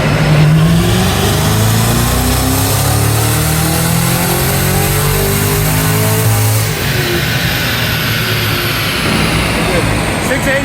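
A Cadillac CT5-V Blackwing fitted with a Magnuson 2650 supercharger makes its first full-throttle pull on a dyno, the engine revving hard with rising supercharger whine sweeping upward, loud and close, before easing off near the end.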